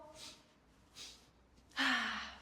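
Breathing during a yoga flow: two soft breathy exhales, then a stronger, louder sighing exhale near the end, close and otherwise quiet.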